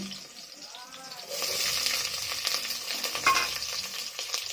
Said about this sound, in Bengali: 1 বাটি পেঁয়াজ দিয়ে পেঁয়াজগুলো ভেজে নেবো।